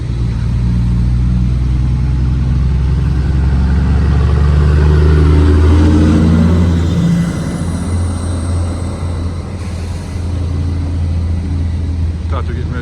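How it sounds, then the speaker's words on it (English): Busy road traffic near a five-track railroad crossing: a loud, steady rumble of engines with a heavy vehicle droning close by, easing slightly midway, with some talk mixed in. "It's hard to tell what's going on because it's so noisy, the traffic here."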